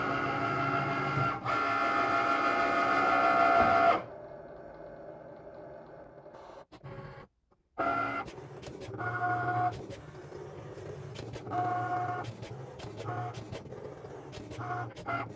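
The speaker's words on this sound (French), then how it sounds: "Je peux donc appuyer dessus pour lancer la découpe." Cricut Maker cutting light-to-medium fabric pattern pieces: a steady mechanical whir and buzz for about four seconds, then quieter intermittent motor runs and short carriage movements with pauses, close by.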